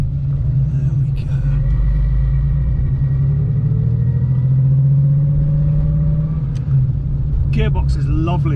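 A Porsche 964 with a manual gearbox driving on the road, a loud low engine rumble that rises and falls with the gear changes, heard from inside the car with people talking over it.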